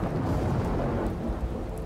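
Thunder from a lightning strike rumbles in a low, continuous roll over steady rain, loud and enveloping throughout.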